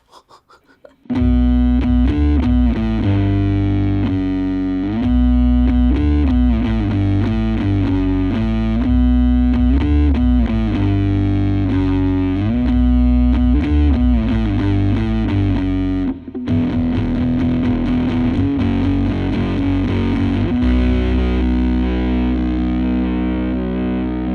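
A Death by Audio Crossover Fuzz stereo pedal pushes a guitar into thick, saturated fuzz, sustained chords ringing loud and dense, then shifting to a rougher, gated texture near the end; no talking.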